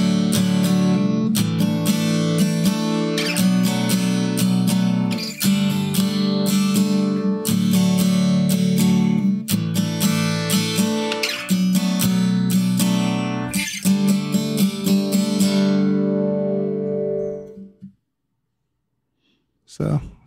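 Acoustic guitar strums the chords of a song in a steady down-up pattern with percussive dead-string hits, loud and close, ringing out and fading to silence at the end.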